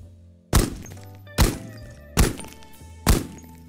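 Four heavy 30-06 rounds hit body armor in the video game Ghosts of Tabor, each a loud, sharp, booming impact with a ringing tail, evenly spaced under a second apart.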